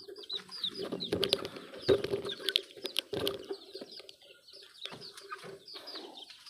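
A broody native bulik hen clucks softly in a coop, short low repeated clucks mixed with scattered chirps and light wing flutters, fairly close and alone without talk.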